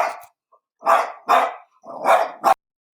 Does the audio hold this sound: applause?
no